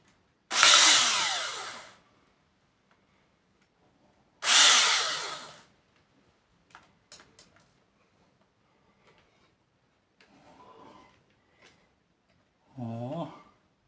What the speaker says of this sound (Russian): Сейчас буду сверлить, проходить большим диаметром.